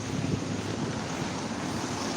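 Studded car tyres grinding along a spring street in Yakutsk, heard as a steady, broad rushing roar that stays close and fairly loud throughout, with no talking.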